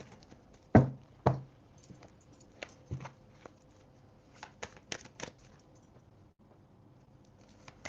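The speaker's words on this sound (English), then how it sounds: "I was just shuffling the deck" A tarot card deck is shuffled by hand, giving a few sharp riffling bursts followed by scattered soft taps and shuffles, close up in a quiet room.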